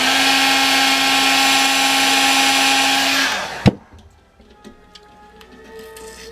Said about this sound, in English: Sometimes you have to use a heat gun.